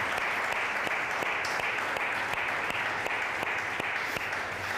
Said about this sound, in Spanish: Denle un aplauso a Eli, que está con ganas de aplaudir.